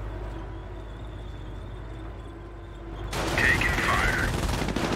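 Battle in Company of Heroes, during the Normandy invasion at Hill 192, erupts into dense crackling gunfire over a steady low rumble, with a voice briefly calling out amid the shots.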